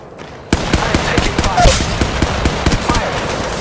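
Rapid gunfire bursts in the Apex Legends Mobile battle royale, sharp close shots in quick repeated volleys after a brief quiet start, with a voice speaking over the shooting.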